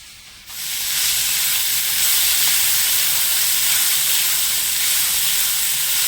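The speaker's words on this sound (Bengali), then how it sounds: "লবণটা দিয়ে ভালো করে নেড়ে চিড়ে মিশিয়ে নেব আর ফুলকপিটা একটু ভেজে নেবো" Cauliflower frying in a pan for cutlets gives a steady, close sizzle and hiss that starts after a brief quiet moment and then holds even and loud with no talk.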